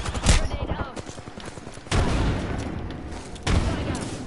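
Grenade blasts and gunfire in the video game Apex Legends: a rapid burst of shots followed by two loud, heavy booms about a second and a half apart, each leaving a rumbling tail, with a voice speaking over the action.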